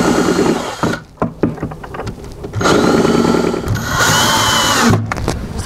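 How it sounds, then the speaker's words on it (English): A power drill bores a couple of small holes in a cabinet door, with short whirring bursts that rise and stop, close and fairly loud, separated by brief pauses and handling noise. "I'll go ahead and drill a couple little holes."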